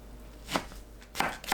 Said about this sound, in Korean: 6cm 간격으로 썰어주세요.